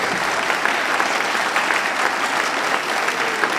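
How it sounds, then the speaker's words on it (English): A school holiday concert audience claps in a loud, dense, steady round of applause for a few seconds with no letup. "Give them a round of applause, please."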